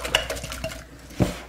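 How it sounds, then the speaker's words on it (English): A whisk clatters against a bowl while blending eggs for a blueberry and cream cheese French toast casserole, a few quick metallic clinks and scrapes, close and fairly quiet, with one sharper knock near the end. "Just take a whisk and really get that blended up"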